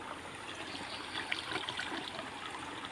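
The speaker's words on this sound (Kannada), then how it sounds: "ಇಲ್ಲಿ ನಮ್ಮದು ನೀರು ಹೋಗೋದು ನೋಡಿ" Water left from washing clothes runs and trickles steadily away down a bathroom drain, a continuous rushing flow with faint splashes, fairly close and with no voices.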